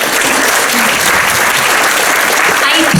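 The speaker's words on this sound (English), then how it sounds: "Applause for the stage, please." Theater audience at a stage performance of Present Laughter breaks into loud, dense applause that stays full and continuous throughout, with faint voices mixed in beneath the clapping.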